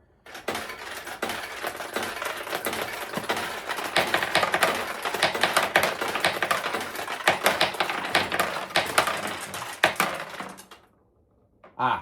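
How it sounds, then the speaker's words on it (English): Dense, continuous metallic clattering of many small balls pouring out of a 1977 Heiwa vintage pachinko machine with no catch tray, rattling against metal for about ten seconds, then stopping abruptly. "What you're hearing are the balls dropping out because I didn't put the catch tray back there."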